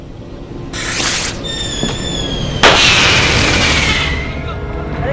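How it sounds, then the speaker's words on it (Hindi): Firecrackers bursting in a scene from an old Hindi movie: rising whistles and crackling pops build to a sharp, loud bang near the middle, followed by a long hissing, fizzing tail that fades, with faint voices in the background. "पटाखे छोड़ने का मतलब रुपये जलाना होता है"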